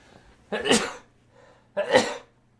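Two sharp sneezes about a second apart, close and fairly loud, each a sudden burst of breath, with quiet in between.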